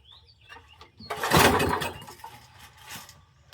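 An old generator engine coughs as it tries to start, a short rough burst of running that swells for about a second and then sputters and fades, with faint bird calls in the background.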